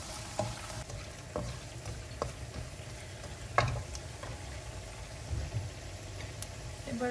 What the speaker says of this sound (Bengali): রসুনটা একটু ভাজা হলে আমি চিংড়ি মাছটা ভাজবো তার মধ্যে।